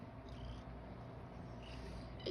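A cat purrs close by in a steady, continuous low rumble that holds for a couple of seconds, with no talking over it.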